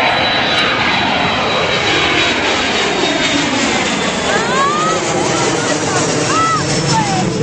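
A US Airways airliner takes off at Reagan National Airport, its jet engines producing a loud, continuous broadband roar that holds steady across the scene, while excited voices call out faintly over it.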